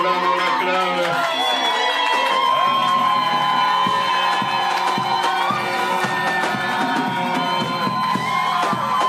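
A hall audience cheers and acclaims at a family ceremony, a sustained loud wash of crowd voices and whoops with musical tones running underneath throughout.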